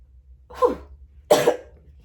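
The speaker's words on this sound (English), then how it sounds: "Had to cough." Two short, harsh coughs, close by and a second or so apart, against a quiet background.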